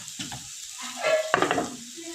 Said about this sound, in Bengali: এইভাবে এই যে দু সাইড দেখো একদম কড়া করেই ভেজে নিচ্ছি